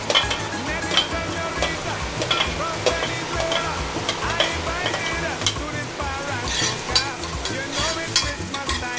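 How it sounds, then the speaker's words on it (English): Onions and garlic sauteing in a pan, a steady close sizzle with frequent stirring scrapes and clatter running throughout, no talk. "So if I leave my onions in there to saute for a little while, so it brings out the flavor in the onion."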